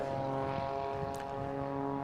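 A propeller aircraft performing aerobatics at an airshow drones steadily with a sustained, tonal engine and propeller hum, moderately distant and unbroken.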